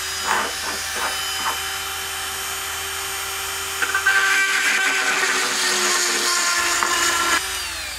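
A high-speed drill bit, held in the collet of a rotary tool, bores into a piece of steel, producing a steady high-pitched whine that grows harsher partway through and then eases off.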